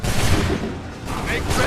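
Musket volleys crack out in Assassin's Creed III as a battlefield line fires, giving dense, loud overlapping gunshots with booming low end and a rumbling tail, with a second burst following.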